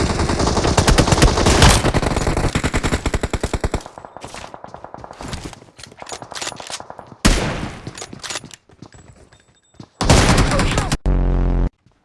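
Gunfire in the BGMI battle royale game on the Sanhok map, with loud rapid automatic bursts and sharp single shots that come in clusters across the clip, broken by short quiet gaps.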